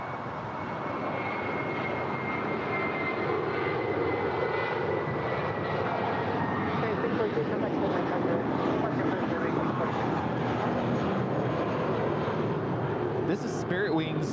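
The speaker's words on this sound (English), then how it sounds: "This is Spirit Wings 643 departing to Chicago. It's an A320." Spirit Airlines Airbus A320 departing LAX, its jet engines producing a loud, steady roar with a faint whine throughout, with someone talking over it.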